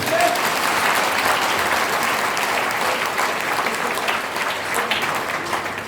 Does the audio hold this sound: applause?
yes